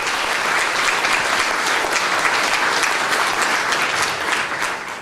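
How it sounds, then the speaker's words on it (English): Audience at a 2017 multiple sclerosis symposium breaks into sustained, loud applause, a steady dense wash of clapping lasting the whole stretch and tapering slightly at the end. "So can we give a round of applause to MS Views and News?"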